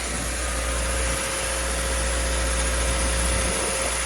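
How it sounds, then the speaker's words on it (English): A used 2009 Lexus ES 350 or 2013 Subaru Legacy engine idles steadily at close range, a smooth low hum with a constant drone and faint periodic throbs, no voices present. "It looks like the engine is running smooth so far."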